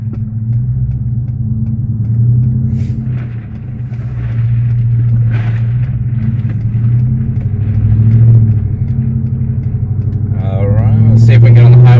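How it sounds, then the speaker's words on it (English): A 2015 Ford F-150 pickup's exhaust with a Venom 250 Series muffler, heard inside the cab, rumbles loudly and steadily, swelling as it accelerates onto a highway, with a rising whine near the end as the engine revs harder. "kind of seeing what the exhaust sounds like"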